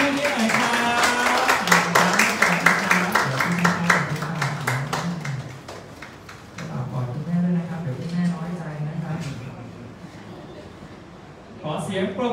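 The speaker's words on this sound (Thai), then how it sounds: "ขอเสียงปรบมือให้พ่อลูกคู่นี้หน่อยครับ" Guests at a Thai engagement and wedding procession ceremony applaud a father and child, steady clapping from a crowd that fades partway through while a speaker talks over it and then picks up again near the end.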